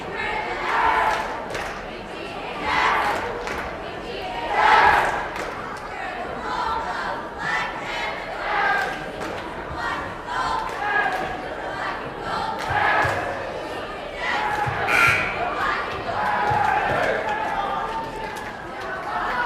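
Cheerleaders lead a last cheer with the crowd at a basketball game: rhythmic shouted chants rise and fall over a busy crowd murmur, with a voice talking over it.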